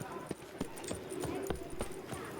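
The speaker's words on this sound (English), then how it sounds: "that must be my horse" Horse hooves clip-clop in a steady walking rhythm in The Witcher 3 video game, a series of sharp, close knocks repeating roughly every third of a second, with speech present in the clip.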